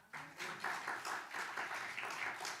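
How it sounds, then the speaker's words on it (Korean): Church audience applauding, a steady wash of many hands clapping together, even and sustained at moderate loudness without a break. "박수 한번 해주세요"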